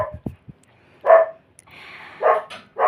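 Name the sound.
dog barking at someone entering the gate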